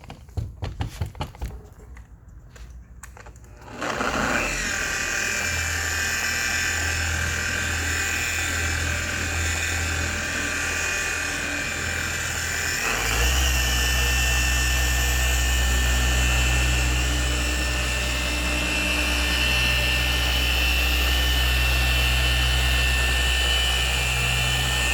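A machine polisher works car paint with Angel Wax Resurrection compound, starting with a few short bursts, then spinning up to a steady high whine that deepens into a heavier continuous drone midway, close and loud.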